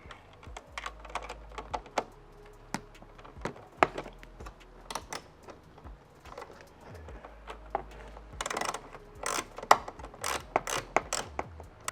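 Fasteners on the 8mm nuts of a Tesla Model 3/Y taillight being tightened, a steady run of small ratcheting clicks and light mechanical taps close up across the whole stretch, with no talking.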